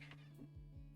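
A cat gives a few short, quiet meows and mews close to a microphone, with no talk over them.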